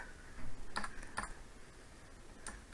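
A few keystrokes on a computer keyboard as code is typed into a Lazarus program, with short clusters of quiet clicks near the start and one more click toward the end, faint and close, with no talk.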